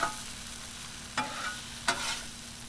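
Shrimp and broccoli in garlic sauce stirred on a Blackstone griddle, a steady close sizzle with two distinct scraping strokes of a spatula, no talk.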